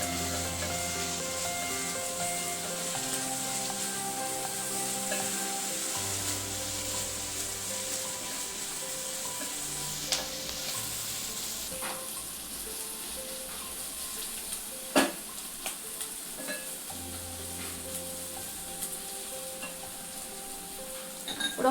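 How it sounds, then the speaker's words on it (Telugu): Curry leaves and onions sizzle and fry steadily in a pan for a Telugu egg fry dish, a continuous crackling hiss with a few sharper pops and stirring knocks, close and alone with no talk. "ఫ్రై చేసుకోవాలి."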